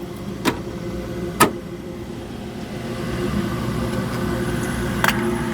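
An H-120 Army space heater runs with a steady low mechanical drone and hum, broken by a few sharp clicks or ticks close by.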